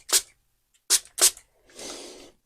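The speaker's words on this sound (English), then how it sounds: "And then I will just spray some on myself as well." A handheld spray bottle mists a cleansing spray during a Reiki healing session: three sharp, close spritzes in quick succession, then one longer, softer misty spray, with quiet in between and no speech.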